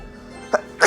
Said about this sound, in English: I'm about to go into a sneezing fit.